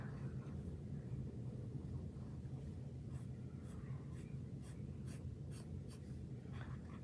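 A pen or pencil sketches a cupcake in a sketchbook, giving faint scratchy strokes in quick bursts over a low background rumble, with no talking.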